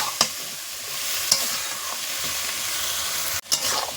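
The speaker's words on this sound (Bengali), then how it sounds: "সবজিগুলো দিয়ে একটু ভালো করে নেড়ে নেবো খুব বেশি না দু এক মিনিট" Bottle gourd greens and other vegetables fry in spiced masala in a pan with a continuous hissing sizzle, a few sharp scrapes and knocks of a stirring spoon, and a brief break near the end; no talk.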